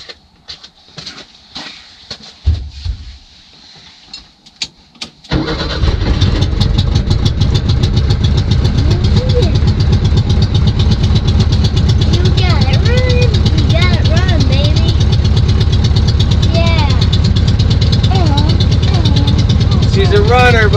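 An old VW Bus engine that sat for over 30 years cranks and catches after about five seconds, then runs loud and close in a steady rough idle, with people talking over it.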